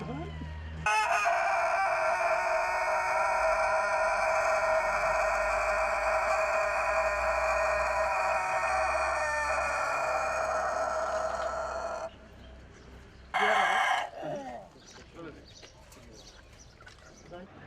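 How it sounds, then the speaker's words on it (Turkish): A rooster in a coop gives one very long, loud, sustained crow lasting many seconds, followed by a brief second burst and scattered clucks and rustling, with people talking faintly afterward. "Horozum kümeste ötüyordu."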